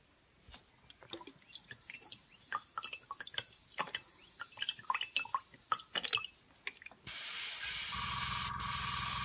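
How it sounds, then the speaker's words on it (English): Airbrush being cleaned by spraying water through it: a series of short, sharp spritzes and drips, then a steady, loud hiss of continuous spray near the end, with no talking. "I'm going to clean my airbrush."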